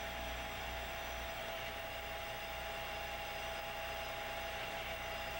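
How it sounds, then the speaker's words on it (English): A Davenport Model B multi-spindle machine runs steadily through its cycle, a continuous mechanical hum with a high whine held evenly throughout, no pauses and no voices. "Once the machine is running, engage the starting clutch by moving the clutch lever to the left."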